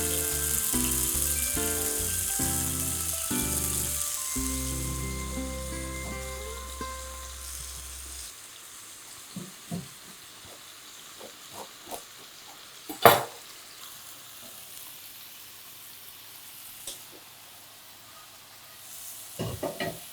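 Mushrooms sizzle in a hot pan over medium-high heat, a bright hiss that fades over several seconds, followed by scattered clicks and clatters of utensils as they are flipped, including one sharp knock near the middle.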